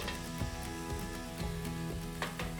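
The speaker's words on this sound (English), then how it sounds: "We're gonna start our stir fry." Oil sizzles steadily in a pan as a stir fry begins for a venison loin dish, a dense crackling hiss with a few sharper pops, close and continuous with no talk.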